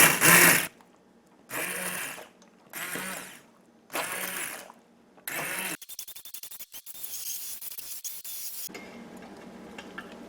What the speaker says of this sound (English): you either use a blender or I have an immersion blender